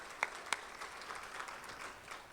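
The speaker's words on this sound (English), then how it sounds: "And let's give a round of applause to them again." Faint applause at a chamber of commerce business awards event, with two sharper claps near the start followed by a soft, thin patter of clapping in the distance.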